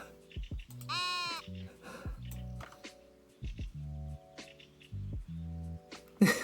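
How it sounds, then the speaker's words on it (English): Sheep bleat inside a city-building video game, a brief wavering cry amid repeated short blocky tones and dripping, squishy effects, all moderately loud and close. "look at the sheep, look at the sheep, look at them"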